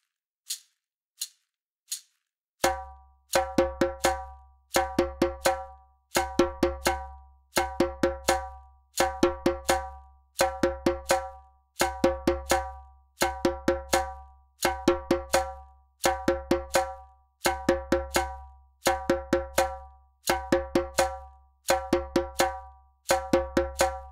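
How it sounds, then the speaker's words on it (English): A djembe plays the second part of the Sorsornet rhythm in a simple djembe and dundun ensemble arrangement. Three sharp count-in clicks lead into a steady, looping pattern of deep drum hits mixed with bright, ringing bell-like strokes, close and clear, with no voices. "This is djembe 2."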